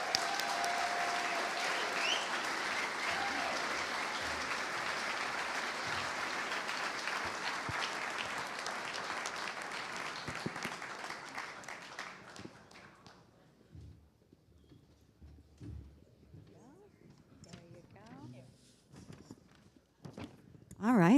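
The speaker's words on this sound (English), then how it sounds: "let's give another round of applause for these 2 accomplished women that we have here on this stage." A crowd applauds an award winner and the Florida State women's basketball head coach at a USBWA event, loud sustained clapping that dies away after about twelve seconds, leaving scattered quiet sounds and some talk.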